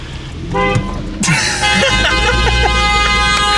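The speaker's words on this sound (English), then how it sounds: "She's still honking." A BMW F80 car horn blares in a sustained toot, starting suddenly and holding over traffic noise and a revving engine, with people talking nearby.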